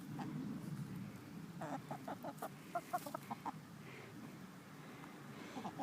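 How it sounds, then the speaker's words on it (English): Backyard chickens clucking softly while pecking and scratching in a garden, a short run of quick clucks rising in the middle over a faint, steady outdoor hiss. "here are the chickens pecking and scratching, getting yummy worms"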